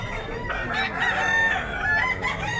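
A Gilmore gamecock rooster crowing amid the clucking of other fowl at a busy market or sale in Talisay, Cebu, with continuous dense bird calls and no clear talk.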